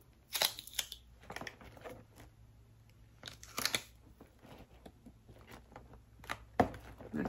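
Tape is pulled and pressed while taping up a Father's Day gift, giving intermittent crackling rips and soft rustles with short pauses between them, close and quiet.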